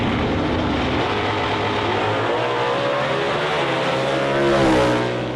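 Hemi drag cars launching at a Dodge Hemi Shootout drag race, including a red 1968 Plymouth Barracuda with a four-speed Hemi, a loud sustained engine roar with rising revs that swells near the end.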